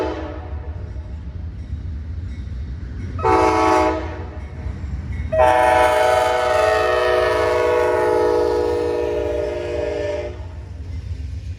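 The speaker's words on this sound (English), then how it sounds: "we see the daily northbound Amtrak Crescent, number 20, running from New Orleans, Louisiana to New York with 2 P-42 DCs leading" Amtrak's northbound Crescent passenger train, led by two P42DC locomotives: a short horn blast, then a long sustained horn over the low rumble of the passing train.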